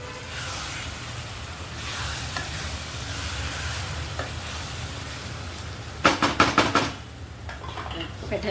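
Stuffed eggplant fries in oil in a pan, giving a continuous close sizzle with occasional stirring scrapes and a brief cluster of sharp clattering knocks near the end.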